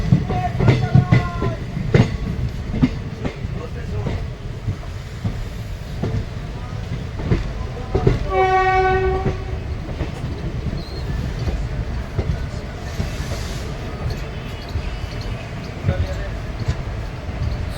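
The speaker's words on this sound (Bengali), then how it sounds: "দুপুর প্রায় আড়াইটের সময় ট্রেন ধীরে ধীরে আজিমগঞ্জ জংশন এন্টার করছে" A Katwa–Nimtita passenger train rolls slowly into Azimganj Junction with a steady rumble and wheel clatter, a sharp wheel squeal rising midway, while voices murmur in the background.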